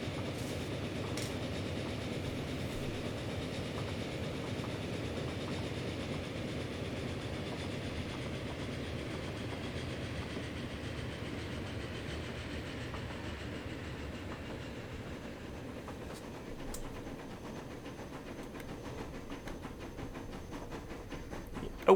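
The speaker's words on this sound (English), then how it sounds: "it's doing 50 mile an hour, it's the fastest passenger train we've got" A passenger train runs at about 50 miles per hour in the Transport Fever 2 game, a steady low rumble with faint clickety-clack carrying on evenly, with no one talking.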